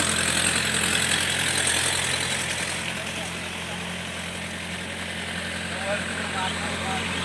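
A tractor dragging a wooden plank puddles mud in a rice paddy at planting time, its engine droning steadily and loud throughout, with a person talking over it.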